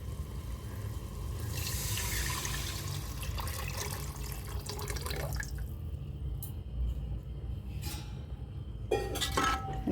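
Coconut milk mixed with water poured into a pot of rice for coconut milk rice, a steady liquid pour and trickle close by, tapering into drips and a few light clinks.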